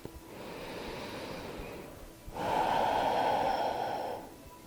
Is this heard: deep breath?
yes